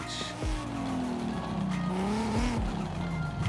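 A 1000+ hp drift-tuned Audi RS6 Avant in Forza Horizon 5 revs hard and sweeps up and down through its gears while tires squeal during the slides, a continuous, loud engine drone with no talking.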